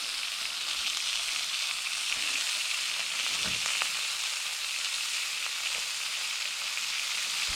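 A sirloin steak and onion fry in a pan at a summer camp, giving a loud, continuous close sizzle with occasional soft stirring scrapes and no talk.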